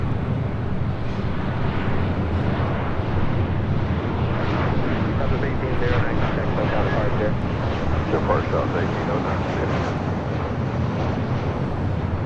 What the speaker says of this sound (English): This is Alaska Airlines 1092 coming in from Seattle on a 737 800.